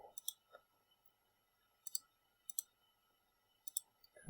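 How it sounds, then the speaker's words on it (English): Keys pressed on a calculator or keypad while entering a function, sparse sharp clicks coming singly and in quick pairs with pauses between, close and quiet in near silence, with a brief voice starting at the very end. "I'm going to go ahead and type in my function here"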